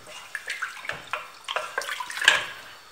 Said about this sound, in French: je rajoute l'équivalent d'un demi-litre d'eau